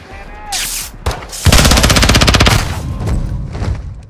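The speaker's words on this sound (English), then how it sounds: "Oh, I love this SMG." A submachine gun fires in the Modern Warfare 2 video game, a loud rapid burst of about a second amid other sharp gunshots and bangs, with some game sound effects before and after.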